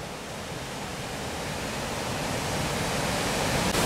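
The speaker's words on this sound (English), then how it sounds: "we can hear there's quite a big waterfall in front of us." Aysgarth Falls, a large waterfall on a river in the Yorkshire Dales, roars as a dense, steady broadband rush heard close by, swelling slightly louder throughout with no voices.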